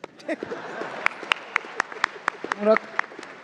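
An audience applauds at a national dialogue conference with the President present, with scattered, spaced claps ringing through the hall while a voice speaks over them.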